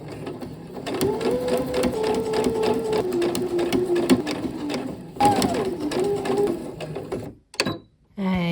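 A sewing machine stitches zipper pouch panels together in two close, steady whirring runs separated by a brief pause, with rattling clicks near the end. No one talks.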